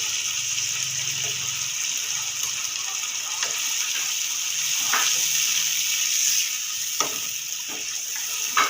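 Water poured into a pan of sizzling masala for a yogurt fish curry sets off a steady hiss and sputter, with faint clinks and a few sharp knocks near the end.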